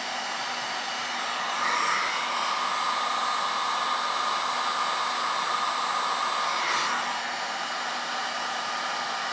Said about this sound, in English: Turn my heat gun on low, and then I'm just gonna melt it on there.